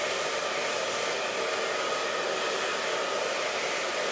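A hair dryer blows steadily and loudly at close range during styling with an hourglass-shaped round brush, a constant unbroken whoosh with no talking.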